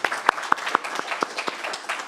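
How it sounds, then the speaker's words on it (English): An audience at a medical talk on bipolar androgen therapy claps for a doctor, a modest round of applause with distinct individual claps spaced out over about two seconds. "let's have another round of applause for Dr. Denmeade."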